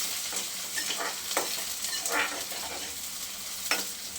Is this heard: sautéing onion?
yes